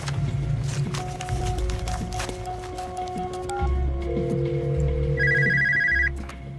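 A telephone rings during a call, with short electronic ring bursts over quiet room noise and faint movement, the last burst brighter and louder near the end.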